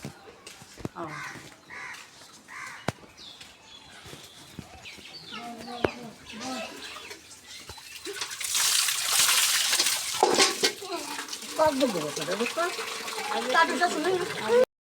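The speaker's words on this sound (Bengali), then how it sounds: "বৃষ্টিও এসে গেছে। দেখেন ঝুমঝুমাঝুম বৃষ্টি" Heavy rain starts about midway and becomes a dense, loud, steady downpour, with crows cawing before it and a person speaking intermittently over the sound.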